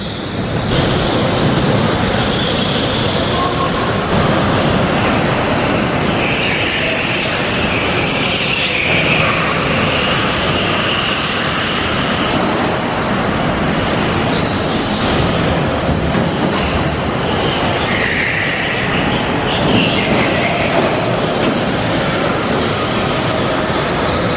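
Several electric vehicles accelerate together, producing a steady, loud rolling rumble with rattling, rail-like clatter that holds for the whole stretch with no talking.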